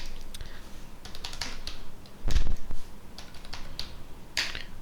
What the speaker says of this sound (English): you need to type it twice